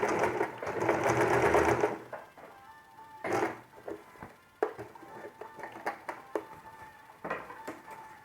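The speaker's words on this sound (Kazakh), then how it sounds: "Осылай бір тігеміз." Sewing machine stitching a square piece of fabric, a rapid loud whirring run of about two seconds, followed by short bursts, clicks and handling knocks.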